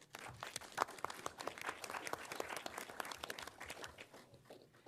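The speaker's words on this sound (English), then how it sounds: "I would like to say a round of applause to everyone" Scattered applause from the audience at a town committee candidates forum, a few seconds of light, uneven clapping heard faintly and at a distance.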